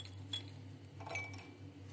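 Walnuts dropped into a small glass jar, giving a few light, faint clinks and taps in quiet surroundings over a steady low hum.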